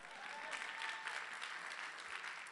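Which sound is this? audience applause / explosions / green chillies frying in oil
audience applause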